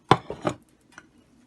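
Chopped garlic, onions and ginger for an Indian dish tipped into a pan: a few quick clattering scrapes and taps close by, the first the loudest, then a faint knock before quiet.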